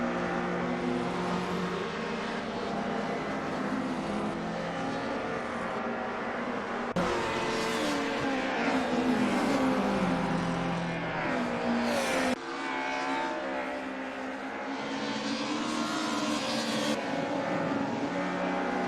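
Several race cars battle wheel to wheel on a circuit on the opening lap, a dense, continuous engine roar with shifting pitches as cars jostle for position.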